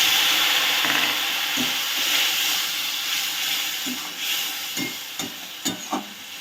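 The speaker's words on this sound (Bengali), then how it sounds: "এবার আমি মশলার বাটি ধরে একটু জল অ্যাড করছি" Water poured into frying spice paste while cooking okra brings a steady loud sizzle and hiss with occasional stirring scrapes, then eases slightly.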